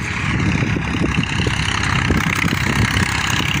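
Massey Ferguson 241 farm tractor engine running steadily at close range, a dense, continuous low mechanical chug and rumble with no pauses and no voices.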